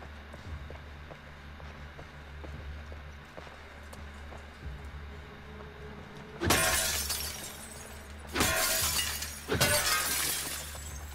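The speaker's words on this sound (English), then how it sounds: "Breaking all the glass like I own the place." Glass shatters loudly three times in The Last of Us Part 2, sudden bright crashes with tinkling debris after a quieter stretch of ambient game noise.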